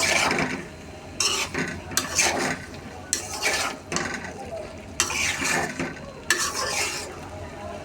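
Tengra fish curry with pointed gourd being stir-fried in spiced oil, a spatula scraping and stirring the pan in repeated strokes over a steady close sizzle, with no talking.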